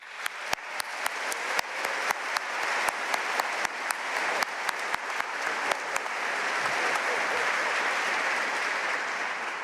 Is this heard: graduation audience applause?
yes